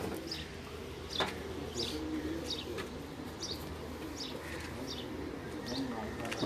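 Pigeons on a rooftop in Gujrat coo in soft repeated calls with a few brief chirps, close and fairly steady, over a low background hum.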